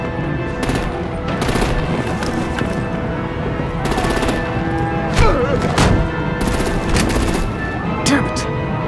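Artillery gunfire in the video game Batman The Enemy Within: loud, sustained rapid bursts of shots and impacts, nearly continuous across the clip over a steady tonal background.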